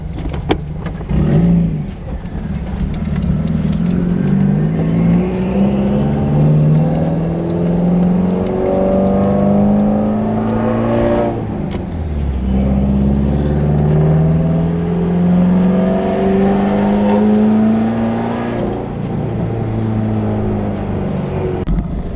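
A straight-piped Subaru WRX engine revs up and down in long rising sweeps, loud and close, with a raspy, droning exhaust tone.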